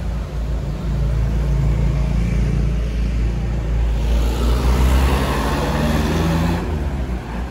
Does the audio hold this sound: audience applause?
no